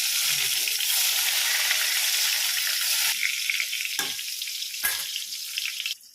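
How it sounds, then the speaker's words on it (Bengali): Eggplant fries in hot oil, a loud, steady sizzle with brief stirring breaks, fading out near the end. "এখানে তেল গরমও হয়ে গেছে, বেগুনটা দিয়ে দেবো।"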